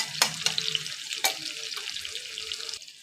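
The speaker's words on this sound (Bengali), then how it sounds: "পেঁয়াজটাকে দেখো আমি বেশি ভাজবো না আমি অল্পই ভেজে" Chopped onions and chili frying in a pan for egg chili, a close, crackling sizzle with a few sharp spatula scrapes and clicks, no voices.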